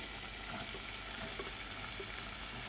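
Finely chopped onions fry in sunflower oil in a pan, a steady close sizzling hiss with soft stirring scrapes underneath, no voices.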